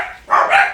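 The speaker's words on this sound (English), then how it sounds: "I'm so sorry because my dogs are barking" A dog gives a short, loud, close bark in a home, a single sharp burst under a second long.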